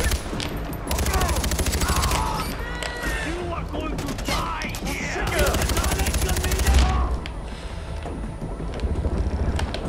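Rapid bursts of loud automatic gunfire from the video game Far Cry 4 rattle almost without pause, dense and close, with a deep boom near the end.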